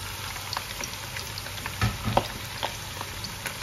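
Smoked chicken drops into a pot of Surinamese soup with spinach, banana and okra. A steady, soft sizzle of frying runs throughout, broken by a few sharper clinks and stirring taps from close by.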